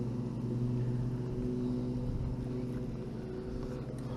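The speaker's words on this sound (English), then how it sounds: "the lawnmower's louder than I thought it'd be" A motor drones continuously at close range for the whole stretch, a steady low engine hum with no pauses, heard outdoors near a lake while fishing in Otter Tail County, Minnesota.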